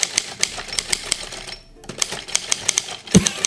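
Rapid sharp clacks of a typewriter's keys strike in a quick uneven rhythm, break for a short pause midway, then resume with a heavier thunk near the end, close and loud with no voices.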